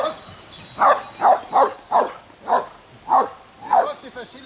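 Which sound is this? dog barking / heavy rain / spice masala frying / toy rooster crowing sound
dog barking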